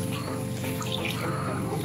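Steady rushing water flows continuously, a broad wash of noise like moving floodwater, with no talking over it.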